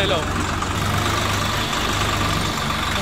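A John Deere tractor engine idling on a village road, a loud, steady, continuous rumble with a constant chugging texture throughout.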